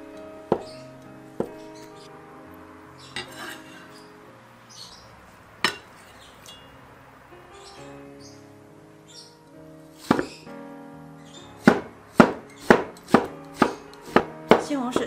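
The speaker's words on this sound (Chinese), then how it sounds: "老豆腐切成薄片" A knife cuts firm tofu into thin slices on a cutting board, with scattered sharp taps that quicken into a rapid run of crisp chops near the end, close and clear, with no talking.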